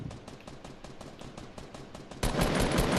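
Video game gunfire: a fast, even rattle of automatic shots, fairly quiet at first, then a louder, harsher burst of fire takes over near the end.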